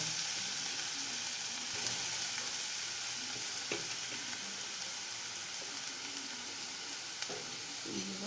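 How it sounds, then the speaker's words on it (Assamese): Grated carrot fries in hot ghee over a low flame, a continuous close sizzle with occasional soft scraping from stirring, with no talking. "ঘিখিনি গৰম হ'লে তাত পিছা গাজৰখিনি দি দিব।"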